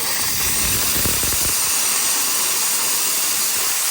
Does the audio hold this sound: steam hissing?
yes